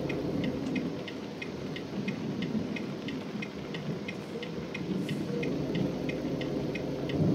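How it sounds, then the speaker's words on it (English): Steady rain in American Truck Simulator, a continuous broad hiss drumming on a Volvo VNL truck while driving, with faint regular ticking from a turn signal running through it; no voices. "And hopefully this rain will move out of here."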